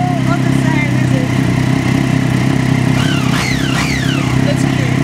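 A Triumph Daytona 675 sports motorcycle fitted with an LOR dual exhaust runs steadily nearby, a constant engine drone beneath faint sweeping whistle-like tones, with no clear revs standing out.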